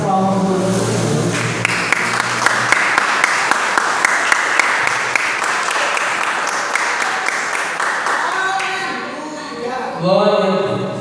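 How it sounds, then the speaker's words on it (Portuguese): Congregation at a church healing and deliverance service claps steadily for several seconds, a dense mass of hand claps under a sustained voice and music, then fades into speech near the end. "E as palmas do Senhor."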